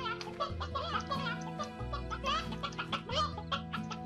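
Chickens in the video game Slime Rancher cluck in quick, chattering bursts, several overlapping calls over a steady musical background, close and fairly loud.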